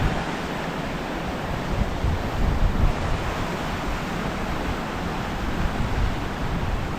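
Sea waves wash continuously onto the rocky shore at Bhandarpule beach, a full, steady surf roar mixed with wind buffeting the microphone, with no voices.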